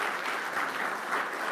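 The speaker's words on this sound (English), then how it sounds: "let's give these guys a round of applause as they make their way" Hearing audience applauding cybersecurity panelists as they walk to the dais, a short, steady wash of clapping at moderate level without distinct individual claps.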